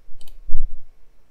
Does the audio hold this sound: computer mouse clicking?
yes